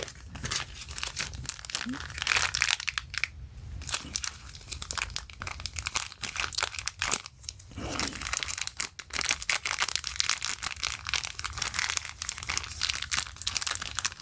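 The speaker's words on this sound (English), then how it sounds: "so I'm going to take out the double-sided tape." Double-sided tape strips for a MyQ smart garage door sensor are pulled from packaging and peeled, a continuous close crinkling and crackling of backing paper with brief pauses and no talk.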